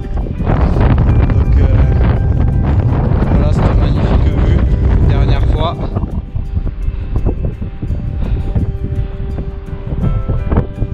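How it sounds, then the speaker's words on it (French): Heavy wind buffets the microphone in a loud, continuous roar with gusty surges, easing somewhat toward the end. "le vent s'est vachement levé"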